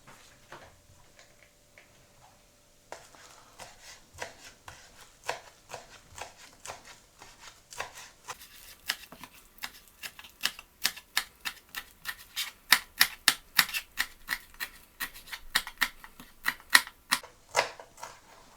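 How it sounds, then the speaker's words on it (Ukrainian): Knife chopping fresh parsley on a board for a burrata salad, a quiet start building into a fast, steady run of crisp taps that grow louder and denser toward the end. "Так, есть. Петрушку нарезал."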